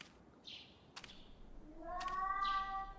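A ghostly cat meows in a horror video game, a couple of faint, drawn-out mewing cries with small tapping sounds, heard softly against a quiet, hushed background.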